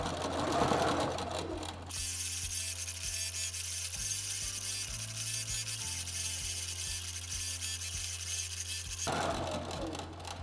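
A computerized longarm quilting machine stitches steadily, its motor hum and rapid needle chatter running continuously between softer, noisier stretches at the start and end, without any speech.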